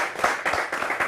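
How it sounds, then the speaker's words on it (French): Applause from a studio audience on a French-language talk show, heard as a brief burst of close, rhythmic clapping with no voices over it. "invité présenté, bien sûr, par Adama Daïko, que je vous demande d'applaudir."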